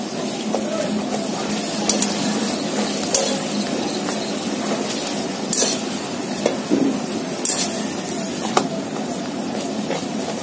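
Radhaballavi breads deep-frying in hot oil, a dense, steady sizzle with occasional sharp ticks and light clatter from the pan and utensils, close and fairly loud throughout.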